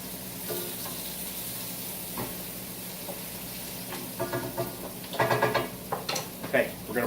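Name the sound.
swordfish and vegetables being tossed in a sizzling pan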